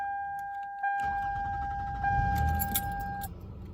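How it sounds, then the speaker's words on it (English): A Lexus with 353,000 miles on it starts up: electronic chime tones ring, then the engine catches and settles into a steady low idle rumble, heard close with no talking. "let's fire this car up"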